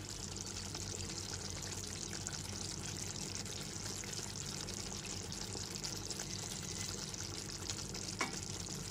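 Ghee and garam masala get stirred into a simmering potato and pointed gourd korma, a steady close sizzle and bubbling with soft scraping of the spoon running throughout.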